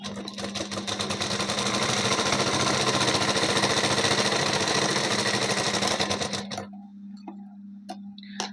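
Sewing machine stitching a blouse, a fast continuous mechanical rattle running steadily for about six seconds, then stopping abruptly, leaving a few faint clicks.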